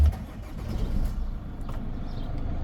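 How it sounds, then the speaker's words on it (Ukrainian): A Chevrolet Captiva with about 193,600 km on it starts up, its engine settling into a steady, close low rumble with no talking over it. "Зараз запущу двигун."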